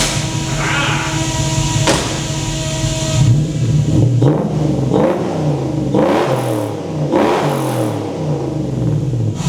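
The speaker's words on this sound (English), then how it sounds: "Intake's pretty quiet" A Toyota 1UZ V8 swapped into a farm truck with a custom exhaust revs through its intake, rising and falling in several loud, close sweeps over a steady idle, with no talk.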